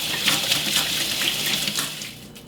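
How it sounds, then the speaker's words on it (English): Steady running tap water splashing over hands at a sink while seasoning chicken, a continuous broadband hiss with slight fluctuations, close and alone. "Wash our hands."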